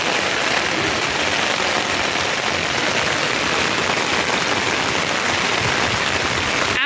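A heavy downpour pours over a flooded housing society, a dense, loud, unbroken hiss of rain that never lets up, with no voices.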